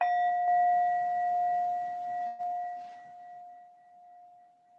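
A meditation bell struck once at a morning session, ringing out with a clear sustained tone that slowly fades over several seconds, alone without talk.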